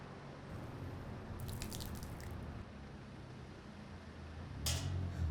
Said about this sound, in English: Pour a little bit from me out on the floor for him.